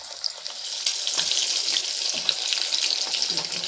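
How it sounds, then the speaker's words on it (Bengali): Potato and egg roll samosas fry in hot oil, producing a steady bright bubbling sizzle with scattered crackles, close and continuous without speech. "দেখুন একইভাবে এগুলোকে তেলে দিয়ে ভেজে নেব।"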